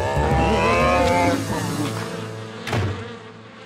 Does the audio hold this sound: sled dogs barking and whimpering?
no